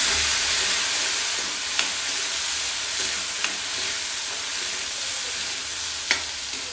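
Radish pieces sautéing in spiced oil with a little water, a continuous loud hissing sizzle broken by a few sharp clinks of a stirring spoon against the pan.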